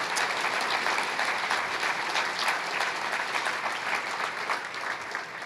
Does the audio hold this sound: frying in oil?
no